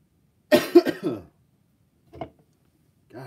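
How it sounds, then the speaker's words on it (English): A person coughs in a close, harsh burst of three or four quick coughs, then gives a single shorter cough after a pause and a faint start of another at the end. "I can't stop coughing"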